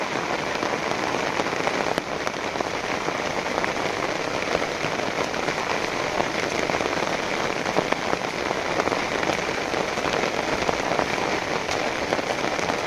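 Heavy rain pours steadily onto surfaces outdoors, a dense, continuous hiss with scattered sharper drop impacts, loud and unbroken throughout with no voices.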